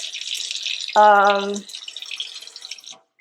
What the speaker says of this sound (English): So I like to check the pressure in all of the sinks. Like this is a strong pressure.